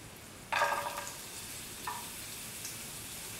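Garlic dropped into hot oil for a yam yogurt bowl, giving a sudden close sizzling burst that fades, then a second brief sizzle, with no talk.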